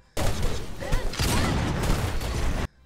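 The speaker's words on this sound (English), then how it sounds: "You get a sharp click immediately followed by a boom for the shot." Belica's pistol in the game Predecessor, firing with a sharp mechanical click and a booming report: a loud, dense burst of close-range shooting lasting a couple of seconds, then cutting off abruptly.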